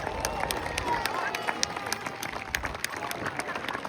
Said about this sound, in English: Ladies and gentlemen, big round of applause please for Lee.